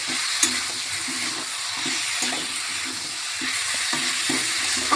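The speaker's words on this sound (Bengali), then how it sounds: "এখানে এই যে মাংসটাও কষা চলছে" Meat braising and sizzling in a pan while it is stirred, a steady hot crackle with repeated scraping strokes of a spoon close by in a home kitchen, and no one speaking.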